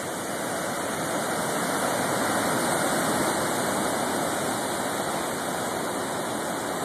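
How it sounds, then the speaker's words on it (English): Storm waves crash against rocks on the coast at York, Maine, the day after a storm, making a constant loud roaring wash of surf that stays fairly even throughout, with no voices. "Crazy waves here on the rocks."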